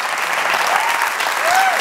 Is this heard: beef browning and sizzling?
no